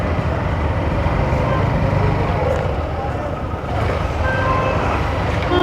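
Heavy road traffic jam on a hilly route near Ramban, a loud steady rumble of idling and creeping vehicles with engines droning nearby throughout.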